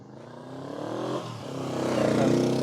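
A 1967 Honda CB450 Black Bomber motorcycle engine idles after a cold start, a close, rhythmic throbbing twin-cylinder putter that rises gradually in loudness.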